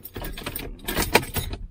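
Keys for a Corvette jangling in a few quick metallic bursts with a bright clink near the middle, close and moderately loud, no talking.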